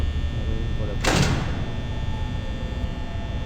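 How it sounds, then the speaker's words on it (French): Door opening in Five Nights at Freddy's, a single short sliding whoosh in the middle over a constant electrical hum, with a voice talking around it. "on ouvre la porte"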